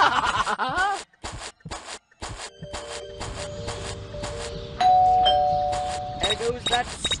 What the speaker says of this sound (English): goes that stupid bell again.